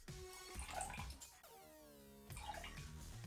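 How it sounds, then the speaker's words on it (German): Orange juice is poured into a vessel as the base of a two-serving Christmas fireside tea, a faint, close liquid stream whose pitch rises as it fills, framed by soft splashing and handling noise. "füllt ihr erst den Orangensaft"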